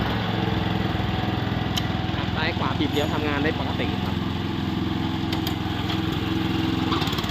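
The 7 hp gasoline engine on a Kubota T702 rotary tiller runs steadily nearby with an even mechanical chug, while someone talks over it throughout.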